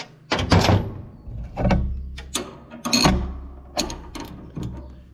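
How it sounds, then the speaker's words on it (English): Ratcheting gear wrench with an extra long deep well socket working a bolt on a Gleaner R72 combine, giving repeated bursts of close, loud clicking ratchet strokes with metallic clatter, no speech. "Get you a gear wrench."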